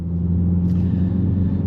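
Mini Countryman JCW on the road, a low steady engine rumble with constant cabin drone throughout, fairly loud and unbroken, no voices.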